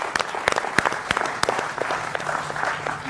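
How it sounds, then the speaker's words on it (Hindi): Studio audience at a televised Hindi political debate breaking into loud, sustained applause, dense overlapping claps with sharp individual strikes standing out, no voices over it. "जनता जनार्दन के लिए जोरदार तालियां"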